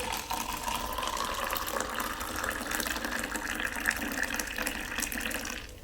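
A steady stream of hot water pours continuously from a kettle at close range, with a rising fill tone as the vessel fills.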